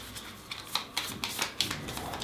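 Piles of playing cards being shuffled by two people, a run of soft papery riffles and clicks in quick bursts, fairly quiet and close with no talking.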